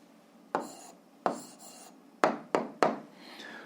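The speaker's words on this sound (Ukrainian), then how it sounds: "Пишемо відповідь." Pen or chalk strokes write an answer by hand during a physics lesson, five short sharp scratching taps in an uneven rhythm, close and fairly quiet in a silent room.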